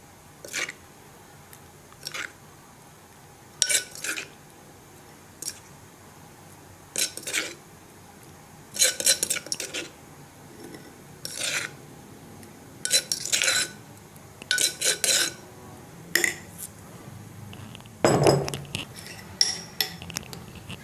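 A utensil clinks against a bowl while wasabi dipping sauce with lime and mixed green and red bird's-eye chilies is stirred, giving a series of short sharp metallic taps in irregular clusters, fairly close, with one heavier scraping knock near the end.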